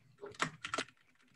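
A couple of quick keystroke clusters tap on a computer keyboard, close but soft, followed by faint background quiet; no voice is heard.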